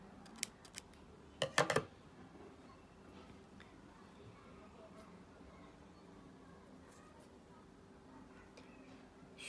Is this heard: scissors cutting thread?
yes